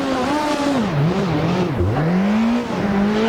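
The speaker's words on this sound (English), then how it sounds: "For a second it sounded like the car had some trouble taking that uphill turn." A rally car engine labours through an uphill turn on a stage of the Zagreb Delta Rally, its revs loud and close, sagging and dipping briefly mid-turn before climbing again, with no voices over it.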